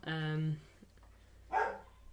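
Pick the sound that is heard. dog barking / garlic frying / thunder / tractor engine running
dog barking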